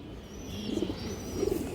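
Old-breed pigeons, one of them a female, coo faintly in two soft bursts over a low background hum.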